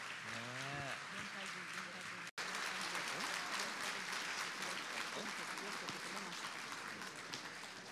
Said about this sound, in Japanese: もう一度皆様大きな拍手で。